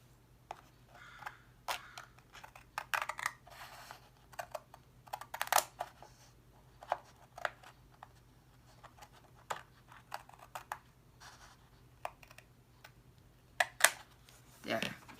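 Scissors snip and trim paper for a junk journal in a series of short, scattered cuts, fairly close and quiet, with faint background hum and some handling noise.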